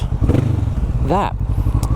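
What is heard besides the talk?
Kawasaki Vulcan S motorcycle Arrow exhaust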